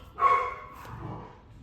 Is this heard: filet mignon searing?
no